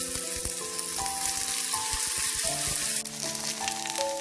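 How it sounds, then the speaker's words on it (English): Potatoes roasting in ghee on a hot tawa give a loud, steady, close sizzle and crackle that holds throughout with no voices. "And I'm going to roast the potatoes."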